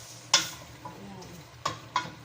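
Tomatoes stirred in a pot for Arabic kebsah, a spoon knocking the metal in sharp separate strikes over a faint, steady sizzle, close and with no talk.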